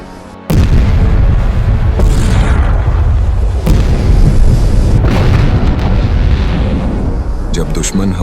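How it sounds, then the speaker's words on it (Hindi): Cannon fire pounds a fort as a Mughal army lays siege, a dense, loud barrage of deep booming blasts with sharp new impacts landing every second or two over a continuous rumbling roar. "मुगल सेना ने किले पर तोपों से हमला किया, परंतु हमारे सैनिकों ने हर बार उनका प्रतिरोध किया।"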